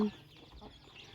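A hen gives a single short cluck right at the start, then only soft background noise follows.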